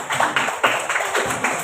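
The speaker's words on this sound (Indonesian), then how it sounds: "Oke, tepuk tangan buat adik." A classroom of students claps for a classmate, quick uneven hand claps of moderate loudness in a short burst.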